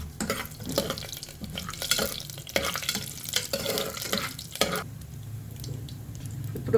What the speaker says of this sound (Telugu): చిట్టపట్టలు ఆవాలండి